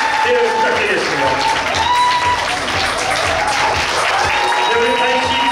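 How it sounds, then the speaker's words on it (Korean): Audience applause at a Korean national open model audition, sustained crowd clapping filling the room while a voice carries on over it. "네, 박수 부탁드리겠습니다"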